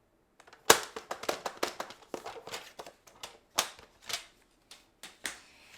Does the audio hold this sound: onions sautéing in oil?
no